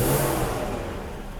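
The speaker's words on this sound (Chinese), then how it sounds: "相当顺畅，但是排气管，排气管的声音很大" A Mercedes-Benz W126 300SEL, just back from a fuel distributor repair, revs hard up close with a loud, raspy exhaust roar that eases slightly over a second and a half.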